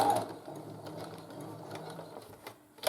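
Sewing machine stitching the end of a fabric drawstring scrub bag, a short quiet burst of rapid mechanical stitching with a soft click at the finish.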